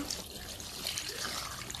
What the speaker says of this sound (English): as it's boiling we'll add some gravy to it, just some water